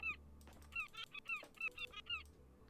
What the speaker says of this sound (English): Oh my god, seagull.